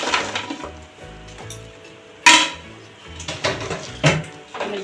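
Fried goja are stirred through thick sugar syrup in a pan over low heat, with irregular metallic clinks and scrapes of the spoon against the pan and a faint sizzle beneath.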